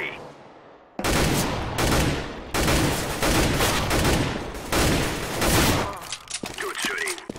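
Rapid gunfire bursts in a CS:GO match, several loud sustained volleys separated by brief gaps, ending in scattered clicks and lighter shots.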